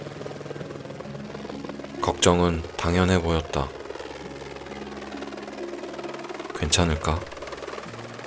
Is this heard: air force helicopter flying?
yes